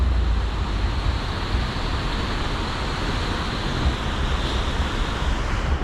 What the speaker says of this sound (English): here's kind of the speed of the water